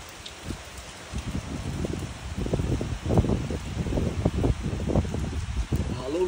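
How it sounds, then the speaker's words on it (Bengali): Heavy rain pours down in the very early morning, a dense, steady hiss with irregular louder bursts of drops that build after the first second and stay close and strong throughout. "তো বিশাল বৃষ্টি করছে।"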